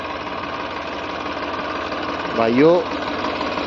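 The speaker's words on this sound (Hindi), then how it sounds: "आप सामने देख रहे होंगे हमारा tractor Messi Ferguson 245 DI series 2018 model" A 2018 Massey Ferguson 245 DI diesel tractor with 13-inch tyres idling in a farm field, a steady mid-pitched engine drone throughout, with someone briefly speaking over it.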